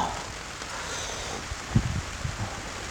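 Steady rain pattering on plants in an organic banana pepper field, a soft continuous wash with a few brief rustles and knocks near the microphone.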